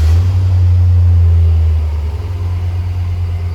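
A car engine runs with a loud, steady low rumble that eases slightly partway through, with no talking over it.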